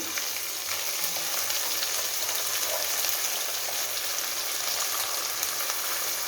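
Peas, carrot and potato fry in a hot pan for coconut vegetable rice, giving a steady, loud, crackling sizzle that runs unbroken from start to finish with no voices.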